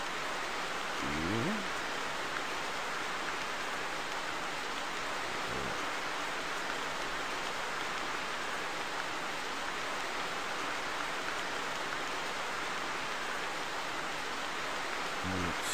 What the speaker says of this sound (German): Ja, ihr hört schon den lästigen Regen.